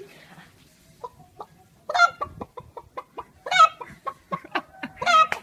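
A man imitates a chicken with his voice, a run of loud clucks and squawks building into bursts of excited cackling, close and clear with no other talk.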